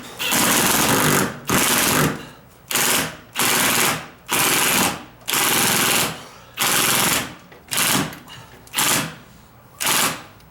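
Repeated loud bursts of an impact drill driving a screw while fixing a rubbing front door, rattling in short hammering pulses, about ten bursts with brief pauses between them, close up.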